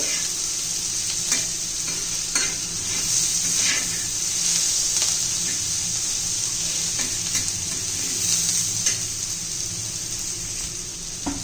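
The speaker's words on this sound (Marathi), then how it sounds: "छान अशी मिरची पण परतून घ्यायची" Green chillies sizzle and fry in a pan, a steady close hiss with stirring clinks and scrapes throughout, no one speaking.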